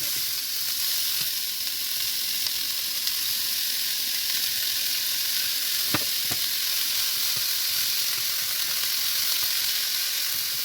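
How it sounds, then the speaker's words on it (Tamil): Onions sautéing for paruppu urundai kuzhambu give a steady close hiss and sizzle, with a couple of sharp utensil clicks around the middle, no voices. "வெங்காயம் நல்லா வதங்கிட்டோம்"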